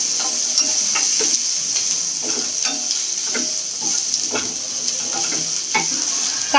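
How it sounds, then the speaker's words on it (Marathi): Chopped onion frying in a pan for a Konkan-style sukha chicken, a steady close sizzle with repeated scraping stirs at an even rhythm throughout. "तर आता आपण कांदा सध्या भाजून घेऊया."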